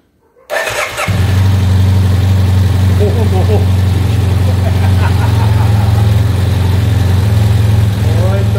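A Yamaha Super Ténéré 750 motorcycle engine, just back together after carburetor work, cranks and catches within a second, then settles into a loud, steady close-up idle.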